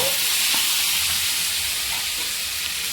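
Tomato, capsicum and onion hit butter in a pan where cumin seeds have already fried. A loud, dense, steady sizzle with a broad hiss runs without a break.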